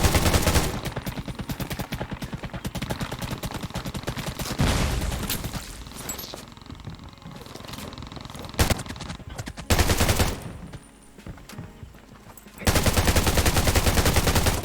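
Heavy gunfire in the survival shooter Undawn: dense rapid automatic bursts and overlapping volleys, loud and close, with brief lulls before firing resumes at full intensity, no talk over it.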